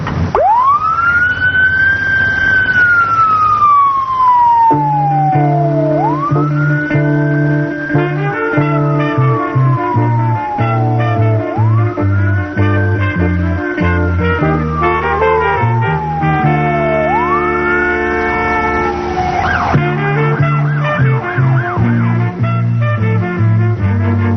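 A Kansas City, Missouri police car siren wails loudly and close in three long rising-and-falling sweeps, then switches to a rapid yelp as the car speeds past.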